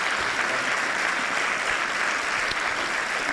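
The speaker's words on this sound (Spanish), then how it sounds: "yo pido para ellos realmente un fuerte aplauso" An audience at a cardiovascular prevention conference in Zamora gives a loud, sustained round of applause, an even, dense roar of clapping that holds steady throughout.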